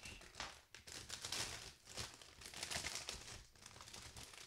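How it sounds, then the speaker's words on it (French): A plastic bag of parts from an HG 1/144 Helmwige Reincar Gunpla kit is handled and opened, giving close, quiet, continuous crinkling and rustling. "Deuxième et dernier sachet."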